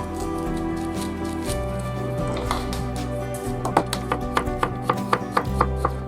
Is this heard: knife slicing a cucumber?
yes